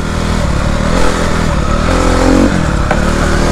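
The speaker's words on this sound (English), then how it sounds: "So I'm gonna give the bike a little more gas, keep that momentum going." Dirt bike engine pulling steadily while climbing uphill and shifting up through the gears, a loud continuous close-up motor drone with rising revs, brief dips at each shift and some clattering, no talking.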